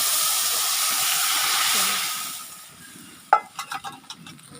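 Spice tempering sizzling in hot oil, a loud hiss that fades away over the first few seconds and gives way to a few sharp clinks and knocks of cookware near the end.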